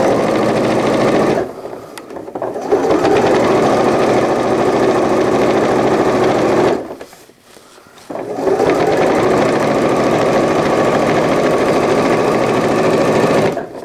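A sewing machine stitches an all-in-one cloth diaper, running loud and close in a steady mechanical whir that drops away twice in short pauses before picking up again.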